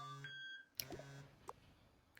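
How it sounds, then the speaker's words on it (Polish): An alarm clock gives a short electronic beep once, then a second brief tone follows moments later in an otherwise quiet room. "A, to budzik był"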